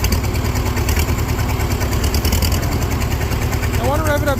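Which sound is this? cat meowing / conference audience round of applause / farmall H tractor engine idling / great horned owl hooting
farmall H tractor engine idling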